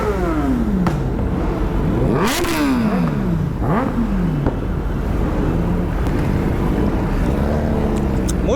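A motorcycle engine at a college bike event revs hard and repeatedly, rising and falling in pitch with sharp throttle blips, loud and close, running continuously throughout.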